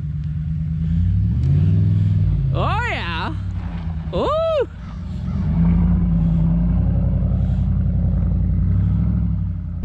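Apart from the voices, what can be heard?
RAM 1500 pickup truck engine revving in snow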